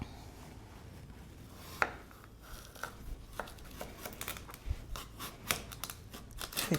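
A knife slices cucumbers lengthwise on a cutting board: a series of crisp, irregular cuts and taps, close and fairly clear, with no talking.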